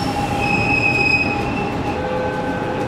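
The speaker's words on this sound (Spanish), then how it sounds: "Vamos rápido, que ya está viniendo el tren." A Buenos Aires subway train pulls into a station, its wheels squealing in long sustained high tones over a loud rumbling roar.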